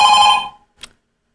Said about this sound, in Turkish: Bak bu telefonun sesi var ya.